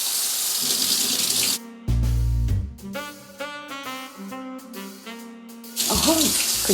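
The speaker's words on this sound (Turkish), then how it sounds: "Aç bakayım sıcak su akıyor mu?" Hot water running from a bathroom tap in a low-rated hotel room, a loud steady gush that starts and stops, with short clunks of the handle between bursts.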